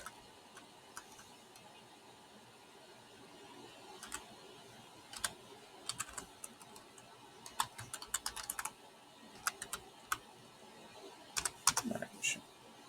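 Quiet typing on a computer keyboard, with scattered bursts of rapid key clicks building into denser flurries toward the end, close but soft against a low background hum.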